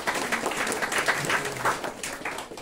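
A workshop audience on business model planning breaks into applause, a short burst of dense, fairly loud clapping lasting a couple of seconds with no voices over it.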